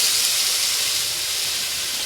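Whisked yogurt mixed with sugar meets hot spice paste in a pan while cooking katla fish curry, giving a loud, steady, bright hiss that holds evenly throughout with no talking.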